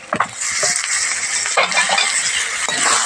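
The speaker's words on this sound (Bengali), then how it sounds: "ভালোভাবে নাড়াচাড়া দিয়ে এবার এটাকে মিক্স করে নিতে হবে" Taro leaves tossed in a pan with fried meat and garlic, loud close stirring and scraping with a crackling sizzle underneath, steady throughout without any voices.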